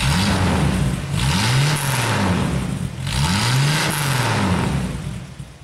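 A Chevrolet Opala six-cylinder engine revs repeatedly, loud and close, rising and falling in roughly regular surges of throttle about every second with a deep rumble underneath, no talking.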